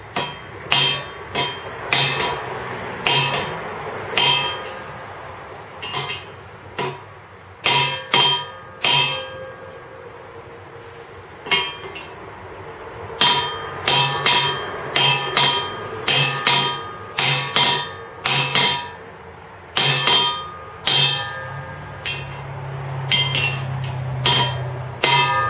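A race driver hammers a bearing race into the machined housing of a 1971 Camaro SS differential: repeated sharp metallic blows, some in quick clusters, rising slightly in pitch as the race seats, with a low hum near the end.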